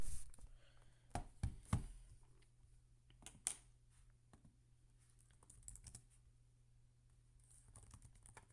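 Sparse keystrokes on a computer keyboard, a few sharper taps early on followed by light, scattered clicking at close range in a quiet room, with no voices.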